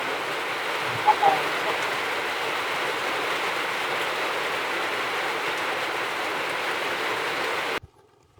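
Steady rain pours down in a continuous dense hiss that runs without a break, then cuts off abruptly near the end.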